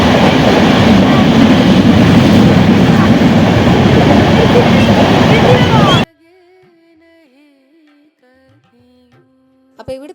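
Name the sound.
train passing by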